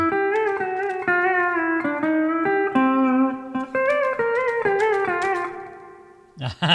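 A pedal steel guitar plays a slow melodic lick, notes sliding upward as the A pedal bends them into pitch, ringing clearly with sustained tones and no talking.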